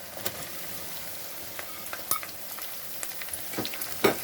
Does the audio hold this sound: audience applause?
no